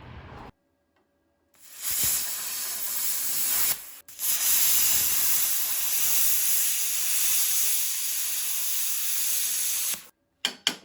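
Cutting machine turned all the way up slicing through a metal hub plate for a Locost 7 kit car, a loud sustained hissing, grinding rush in two long passes, broken by brief pauses and ending in short bursts.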